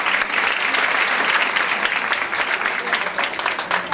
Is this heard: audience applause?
yes